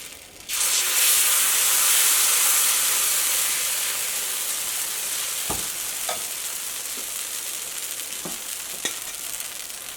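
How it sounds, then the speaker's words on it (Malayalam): Vella appam batter poured into a hot pan, a loud sizzle that flares up right away and then settles into a steady hiss, with a few small pops and taps. "ഇപ്പോൾ പാൻ നന്നായിട്ട് ചൂടായിട്ടുണ്ട്. ഇതിലേക്ക് മാവ് ഒഴിക്കുക"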